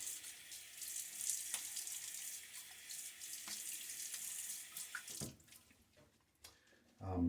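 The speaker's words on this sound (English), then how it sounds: "So splash with water." Running tap water splashes steadily into a bathroom sink during a wet shave with a safety razor, a continuous hissing flow that breaks up into irregular splashes and drips near the end.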